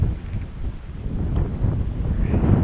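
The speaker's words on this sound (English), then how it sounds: "We all hate the wind as fly fishermen." Strong wind buffets the microphone at a trout fishery on a summer fly fishing session, a steady loud rumbling roar with gusty swells throughout and no talk.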